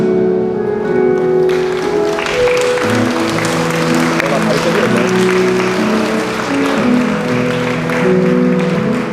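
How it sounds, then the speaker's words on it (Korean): Wedding guests in a church applaud in a steady, dense patter over sustained organ-like music, loud and close throughout. "여러분 다시 한 번 더 박수 부탁드립니다."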